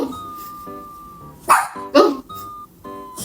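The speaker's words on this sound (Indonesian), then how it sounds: "Kenapa kamu gonggong?" A dog gives two sharp, loud barks in quick succession, with quieter whining tones and short yips before and after.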